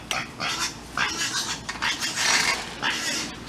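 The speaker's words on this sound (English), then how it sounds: "And Boba, she is so vocal and so loud" A dog in a cage on a farm gives a run of short, loud barks and whines close by.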